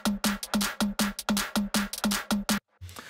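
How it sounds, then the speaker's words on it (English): Shuffly, dance-style drum loop with a steady, punchy rhythm of repeated hits and a deep kick, playing loud and alone before a brief low thump at the end. "a really dancey sort of drum loop that sounds a bit like this"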